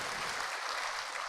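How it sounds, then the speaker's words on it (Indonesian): Steady applause from a seminar audience, a dense even wash of clapping hands lasting a little over a second with no break or rise. "Tepuk tangan buat kita semua."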